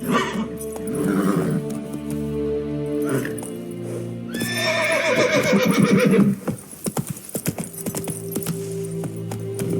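In The Witcher 3, the horse Roach gives loud, drawn-out neighs and whinnies, then quick hooves clip-clop in a gallop, with brief speech around it.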